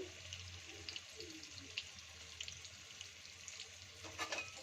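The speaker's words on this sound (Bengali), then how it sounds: "তো বেগুনটাকে সামান্য একটু ভেজে নেব" Eggplant frying in hot oil with turmeric and salt in a home kitchen pan, giving a steady, soft sizzle with faint water-like crackle throughout and a few louder pops near the end, no talking.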